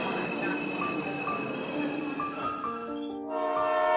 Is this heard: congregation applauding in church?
no